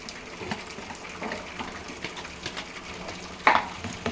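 Leftover dosa batter and idli batter are stirred together in a bowl, a soft, wet, repeated squelching and scraping with regular strokes, fairly close and steady, ending with one louder slap.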